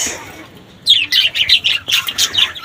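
After a brief hush, a budgerigar lets out a rapid, loud string of harsh squawks and chatter, close by.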